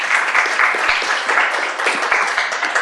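An audience gives a warm round of applause after a talk about femicide in Mexico, dense steady clapping from a crowd that continues evenly throughout.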